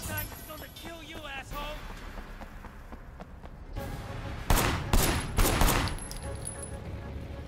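Gunfire in the video game Sleeping Dogs: a burst of several loud shots in quick succession midway, over game sounds and music, with someone talking early on.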